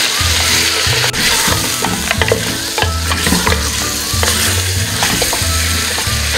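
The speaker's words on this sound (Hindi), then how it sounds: "इसको कंटिन्यूस चलाते हुए इसकी 5 मिनट के लिए भुनाई कर लेनी है जब तक बीफ का कलर चेंज नहीं हो जाता।" Beef stir-fried with ginger and garlic in a hot pan, loud sizzling under repeated scraping strokes of a spoon stirring continuously in an irregular rhythm, no speech.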